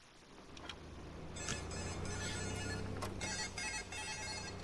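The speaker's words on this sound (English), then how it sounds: "Sorry if you heard that. That was just my alarm phone." A phone alarm rings with a repeating electronic tone in short bursts, steady and fairly close over a low hum.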